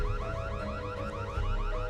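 An alarm blares continuously in a building during a break-in, a rapidly repeating wailing electronic tone cycling several times a second, steady and fairly loud over a low rumbling background, with no talk.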